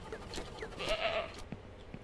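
Goats in the farming game Ranch Simulator give a faint, brief bleat in the middle of a quiet stretch, set against low background sound.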